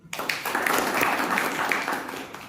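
An audience at a Toastmasters meeting gives a short burst of clapping, a dense patter of many hands that starts abruptly and tapers slightly toward the end.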